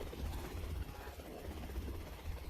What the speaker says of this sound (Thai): เครื่องบินอยู่นี่ฮะ